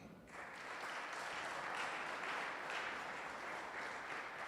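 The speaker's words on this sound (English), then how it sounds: "So a round of applause for that." Church audience at a Father's Day pledge event breaks into sustained applause, a dense, even roar of many hands clapping for several seconds.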